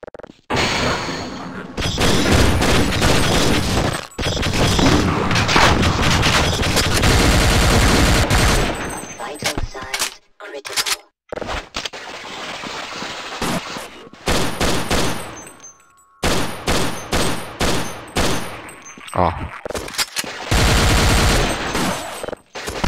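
Gunfire in the Half-Life game, long rattling bursts of automatic fire broken by short pauses and then quick clusters of separate shots, loud and close, with no talk over it.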